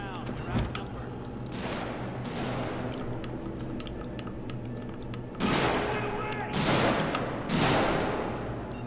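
Gunfire from human enemies in the Alien: Isolation game, bursts of loud shots in uneven volleys, some rapid like a machine gun, with talking heard amid the shooting.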